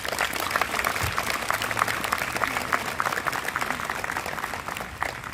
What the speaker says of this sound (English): can you all give them a round of applause, please?